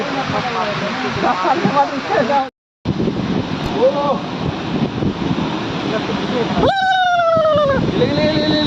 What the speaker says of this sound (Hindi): ये क्या छोटा छोटा झरना है रे।